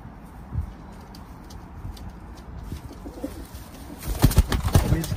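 Teddy pigeons in a loft in London giving low, soft coos over a steady background murmur, with a louder burst of cooing and wing or foot scuffling near the end.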